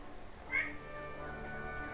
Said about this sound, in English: Noelle, I hear you meowing.